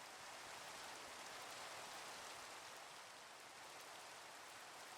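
Steady rain falls in Minecraft, a dense, even hiss of raindrops that holds unbroken and fairly quiet throughout, with no other sounds.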